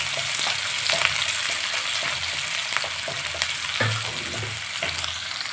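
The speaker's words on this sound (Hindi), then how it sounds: "अब कटा हुआ प्याज। प्याज से हल्का सा लाल कर लेंगे।" Chopped onions frying in a pan until lightly browned, a continuous crackling sizzle with scattered stirring scrapes and taps, no talk.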